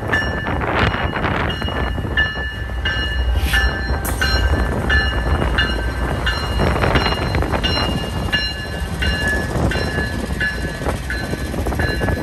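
A Canadian Pacific freight train rolls into a Toronto rail yard, a steady loud rumble of wheels and cars carried under wind buffeting across the microphone, with repeated high metallic squeals and clanks along the way.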